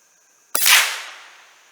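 One sharp, close crack from a Savage Model 64 .22 semi-automatic rifle at an outdoor range, with a short decaying echo afterward.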